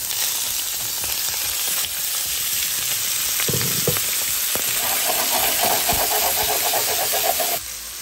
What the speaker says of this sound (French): frire les crevettes. On va les faire frire.